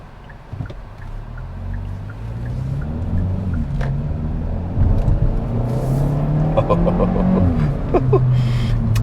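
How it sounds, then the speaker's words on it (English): 2021 Kia Forte GT high-performance sedan running under way, heard from inside the cabin: a steady, muted engine and exhaust drone rises and falls, with occasional faint crackles from the exhaust. "the exhaust would do a little burbles and cracks every so often"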